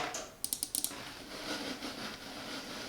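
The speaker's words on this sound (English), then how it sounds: "I like the click." Buttons on a Keychron M3 wireless RGB mouse clicked several times in quick succession, crisp close clicks in a short burst followed by quiet room hiss.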